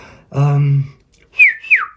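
A person whistles in imitation of a kettle's whistle, copying a robin redbreast ornament on a mantelpiece: a steady low hummed tone first, then two short rising-and-falling whistled glides close to the microphone.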